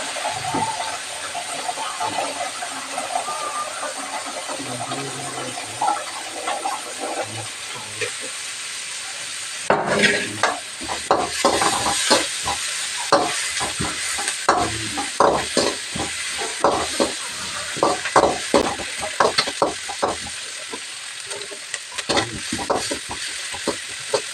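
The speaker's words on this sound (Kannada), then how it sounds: "ಇವಾಗ ಫ್ರೈ ಆಗಿದೆ. ಇವಾಗ ನಾನು ಬೇಯಿಸ್ಕೊಂಡಿರುವಂಥ ಮುಳ್ಗಾಯಿನ ಸೇರಿಸ್ಕೊಳ್ತೀನಿ." Eggplant palya fries in a pan with a continuous sizzle. Halfway through, a spatula starts stirring with busy scraping and clattering strokes over the frying.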